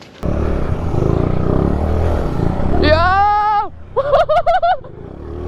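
A simple clutchless mini bike engine runs with a steady, raspy drone, then fades as loud excited shouts take over.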